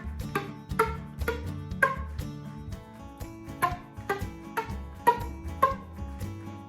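Flute played with the tongue pushing uncontrolled air across the lip plate, giving a rhythmic run of breathy, percussive attacks with faint pitched tones, close and steady.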